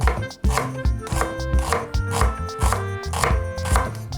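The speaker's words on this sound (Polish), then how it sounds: "Cebulkę pokroimy takie półplasterki." An onion is cut into thin half-slices on a board, with quick, even knife chops landing in a steady rhythm, close and crisp, and no talking over them.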